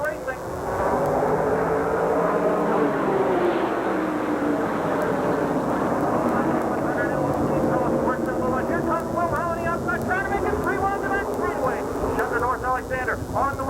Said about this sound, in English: Starter Jack Freeman gets in the green, and we're racing.